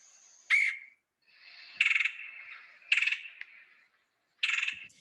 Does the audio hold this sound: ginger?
no